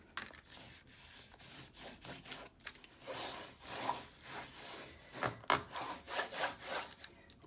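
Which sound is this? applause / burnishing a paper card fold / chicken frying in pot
burnishing a paper card fold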